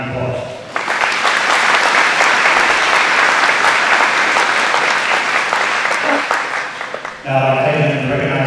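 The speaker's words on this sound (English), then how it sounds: "Let's give them a round of applause" An audience at a utility cooperative's annual meeting applauds its board of directors, a loud, full burst of clapping that swells quickly, holds steady, then cuts off as a voice resumes near the end.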